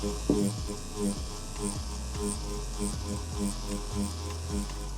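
Tattoo machine buzzing steadily during pendulum shading to smooth colour and hide needle marks, a close electric hum with a faint regular pulse over a low drone.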